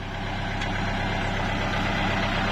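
A Kubota L4708 tractor drones steadily at close range as it plows hard, long-unplowed soil, its heavy engine note constant and loud with no talk over it.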